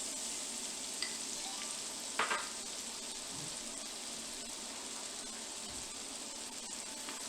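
Shallots fry in butter in a pan with a soft, steady sizzle throughout and a few brief crackles, quiet and close.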